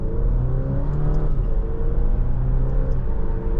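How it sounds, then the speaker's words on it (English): A 2024 Alfa Romeo Stelvio Veloce driving, its automatic transmission shifting as the engine's steady, loud tone steps and dips while the drone continues underneath. "You can hear the shifting is being so responsive."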